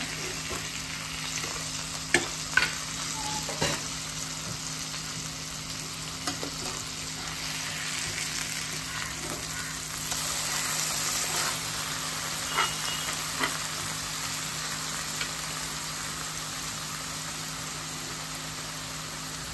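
Stuffed pomfret fish fries in oil in a pan with a steady, close sizzle throughout, punctuated by a few sharp clinks and scrapes as the fish is turned over.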